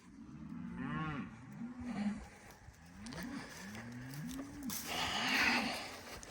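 Several cows moo repeatedly, overlapping low drawn-out calls close by, with a vehicle engine rising in the background.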